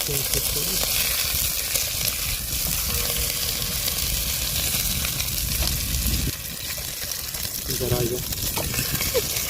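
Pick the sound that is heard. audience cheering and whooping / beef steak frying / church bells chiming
beef steak frying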